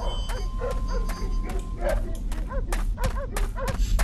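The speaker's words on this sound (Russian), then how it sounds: "Ох, собаки разоряются." Several dogs bark and yelp in quick, overlapping bursts inside the Underhell video game, a loud, busy chorus over a low rumbling background.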